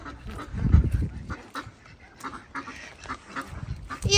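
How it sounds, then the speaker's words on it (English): Ducks quack and honk in a loose, noisy flock at close range, with a louder burst near the start and scattered calls after, set around a dog's play area outdoors. "You are naughty ducks."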